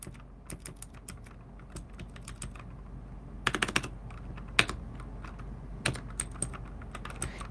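Code is typed on a computer keyboard in quiet, irregular bursts of soft keystroke clicks, with a few louder taps and short pauses between them.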